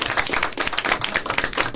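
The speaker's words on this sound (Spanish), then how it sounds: "un aplauso para el profe que nos ha traído por acá" A small group of students claps for a teacher at a school in Rio Primero, quick irregular hand claps, close and moderately loud, with no one speaking.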